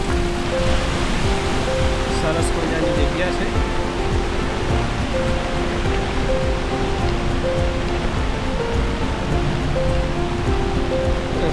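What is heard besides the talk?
Girmal waterfall roaring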